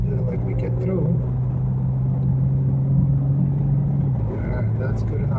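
A 2013 BMW ActiveHybrid 3 with 335 horsepower accelerates in sport mode. A steady low engine drone and road rumble fill the cabin while someone talks over it.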